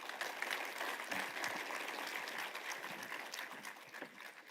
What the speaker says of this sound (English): let's give sir a big round of applause once again, please